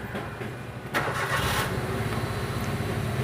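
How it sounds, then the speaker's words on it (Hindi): Maruti Suzuki Wagon R running on CNG, with a cylinder misfire fault, cranks briefly and fires up, then settles into a steady close-up idle with a rough, even engine drone and no talk. "तो गाड़ी को करता हूँ मैं स्टार्ट।"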